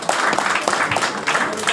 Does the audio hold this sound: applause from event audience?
yes